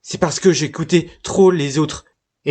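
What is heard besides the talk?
No distinct noise like a dog, phone or traffic.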